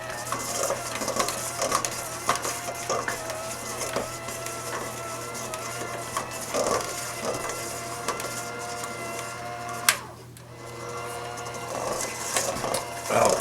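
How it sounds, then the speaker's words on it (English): An electric mixer beats room-temperature butter for whoopie pie icing, a steady close whirring drone with a brief dip partway through, running alone without talk. "we are just going to mix this just until it's nice and smooth"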